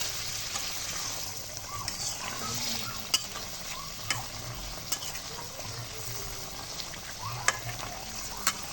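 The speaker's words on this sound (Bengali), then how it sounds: "নাড়া দিই" Pangas fish curry stirred in a pan, steady frying sizzle throughout with a few sharp clicks of the spoon against the pan spaced every second or so, close and fairly soft, with no voices.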